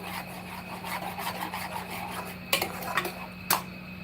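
A spoon stirs and scrapes masala paste roasting in oil in a pan, giving steady rubbing and scraping strokes with a few sharper metallic clinks, close and with no talk.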